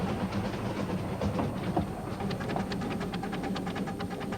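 Half-ton miniature locomotive named Brecon running on a private narrow-gauge line, giving a steady rolling rumble with a regular run of clickety-clack rail joints that grows more distinct toward the end, heard alone without talk.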